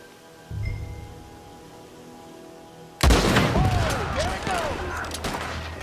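Gunshots ring out in a Red Dead Redemption 2 outlaw shootout, with a dull thump early on, then a sudden loud volley of overlapping gunfire and echoing reports against a noisy outdoor background.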